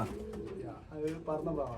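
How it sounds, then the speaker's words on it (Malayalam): Pigeons at a backyard loft give soft, low cooing calls in quick succession, fairly quiet and close, with someone talking alongside. "ഇതൊരു അടിപൊളി പ്രാവാണ് കേട്ടോ"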